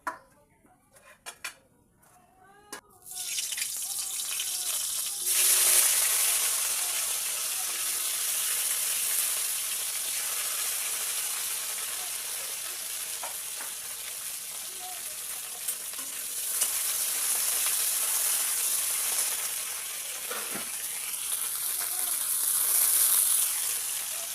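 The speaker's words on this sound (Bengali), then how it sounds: "এবার তেলের ওপর ফুলকপিটা" Cauliflower drops into hot oil in a pan after a few clinks, then a loud sustained sizzle and spatter runs on with occasional stirring knocks.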